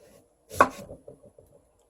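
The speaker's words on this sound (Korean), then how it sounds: "무는 어, 얇게 썰 거예요" A knife slices through radish on a cutting board: one sharp, close cut followed by a run of softer, quick taps fading out, with no talking.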